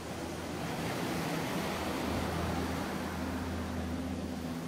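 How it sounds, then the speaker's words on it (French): Large waves driven by strong spring winds roll onto a rocky Canadian coast with giant kelp, a dense, continuous roar of surf and wind without pauses. "le jet stream donne naissance à des vents puissants qui poussent de grosses vagues vers les"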